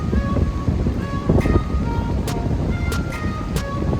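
Steady, loud windstorm roaring over surf at Boso beach, with a constant rushing wash and a few brief high hisses on top; no voices.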